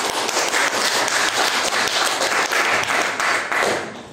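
A classroom full of students claps for a classmate, a dense and even round of applause that keeps going for several seconds and then starts to fade at the end.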